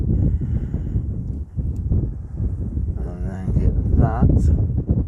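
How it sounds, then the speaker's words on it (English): Wind buffets the microphone at North View Lakes during a carp fishing session, giving a loud low rumble that builds and gusts. Someone talks throughout. "the wind's picked up a bit, so I hope the mic don't start going funny like that"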